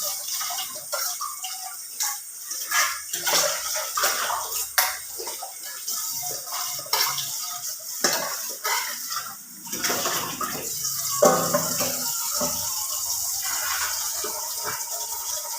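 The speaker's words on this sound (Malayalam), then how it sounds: "തൊലി കളഞ്ഞു വെച്ചിരിക്കുന്ന ഉരുളക്കിഴങ്ങെല്ലാം ഒന്ന് കഴുകിയെടുക്കാം" Peeled potatoes being washed in water, with splashing, sloshing and intermittent knocks of potatoes against a container, rising into steadier running water toward the end.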